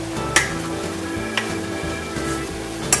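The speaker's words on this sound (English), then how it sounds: "I'm just taking it and kind of flipping it with the sausage" Sausage sizzling in a pan and turned with a spatula, a steady hiss broken by a few sharp scraping clicks, close and without voices.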